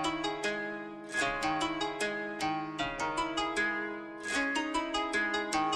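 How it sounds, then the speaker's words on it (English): Plucked melody in a Japanese-style beat made in FL Studio, treated with a Tape Cassette 2 vintage tape effect and raised wow, giving detuned, wobbly notes in a steady repeating phrase, close and clean. "I just increased this wow knob right here, and it gives it that vintage Japanese sound"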